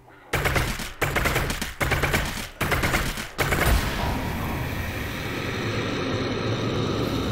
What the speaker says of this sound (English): Who keeps shooting at me?